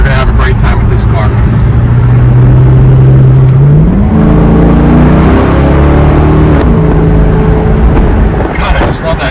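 A 2012 Maserati GT Convertible engine drones loudly while driving, its pitch climbing through a rising rev and then settling into a steady, close roar.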